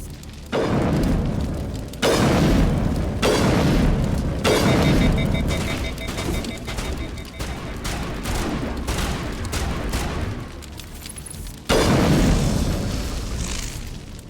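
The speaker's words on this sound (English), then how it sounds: "Useless grenade." Grenade blasts and gunfire in Mass Effect Legendary Edition, with several heavy booms and bursts of shooting, including a sharp blast that opens the passage and another near the end.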